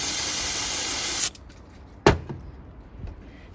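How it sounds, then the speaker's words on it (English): Japanese parts cleaner sprays onto Datsun 720 spark plugs in a loud, steady hiss lasting just over a second, then stops, followed by a sharp knock and faint handling sounds. "This is a Japanese parts cleaner, so I'm gonna spray that and just wipe it off basically."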